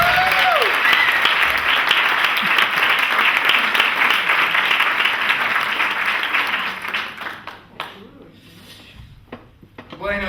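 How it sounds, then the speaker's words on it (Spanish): An audience claps loudly and continuously at a Spanish premiere event, dense steady applause that thins out and fades near the end. "Un fuerte aplaudimiento."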